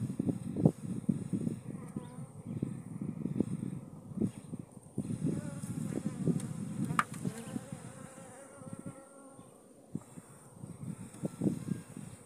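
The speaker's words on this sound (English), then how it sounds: "bees are very, very angry." Angry bees swarm around a hive as honey is being harvested, producing a dense, continuous buzz. It stays fairly close and varies in pitch and loudness as individual bees pass by.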